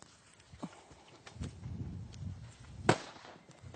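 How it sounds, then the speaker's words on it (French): A firecracker bursts near horses, a series of small pops followed by one sharp louder crack, faint and somewhat distant over a muffled outdoor background with light hoof-like thuds. "Du feu, mais aussi des explosions qui peuvent effrayer les chevaux."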